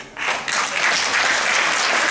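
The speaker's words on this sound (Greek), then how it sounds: "αξίζει το χειροκρότημά σας" An audience applauds children after their Christmas performance, a dense, steady wash of clapping that swells in quickly and stays loud throughout with no voices over it.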